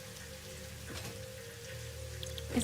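Steady in-game rain from Satisfactory 1.2 Experimental, a constant wash of drops with a low hum underneath and a brief burst near the end, no voices.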